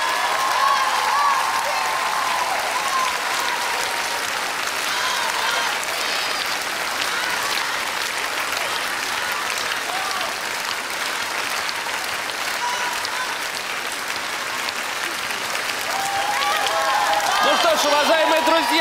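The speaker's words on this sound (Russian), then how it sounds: "Море оваций, цветы." A studio audience gives a sustained ovation after a ballroom couple's dance on a televised dance competition, steady loud applause with crowd noise filling the whole stretch and swelling slightly near the end.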